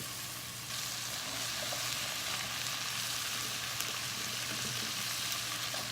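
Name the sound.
squash and zucchini sizzling in a pan with peppers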